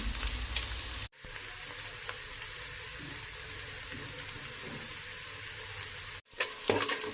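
Onions sizzle steadily in hot oil in a pan for a spicy mutton handi, a continuous loud frying hiss broken by two brief silent gaps, with scraping stirs near the end.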